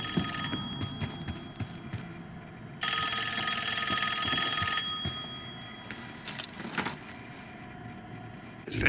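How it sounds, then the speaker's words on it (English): A telephone rings inside a restricted biotechnology facility in Call of Duty: Black Ops 6, a sustained metallic bell ring lasting about two seconds amid game ambience and scattered clicks. "Answer the phone."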